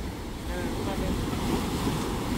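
Sea waves breaking on the shore at Viña del Mar, Chile, a steady broadband wash of surf with wind buffeting the microphone, continuous and fairly close.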